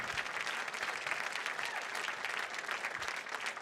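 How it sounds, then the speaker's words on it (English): A gala crowd keeps up sustained applause after a lifetime achievement award is presented, a continuous, even wash of many hands clapping. "Keep that round of applause going"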